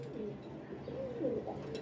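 Sialkoti breeder pigeons, including a red-eyed golden Sialkoti hen, give a soft, close, low coo in one brief rolling phrase against quiet surroundings.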